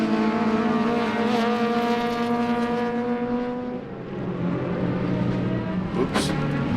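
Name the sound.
Ford Mustang race car engine at Sebring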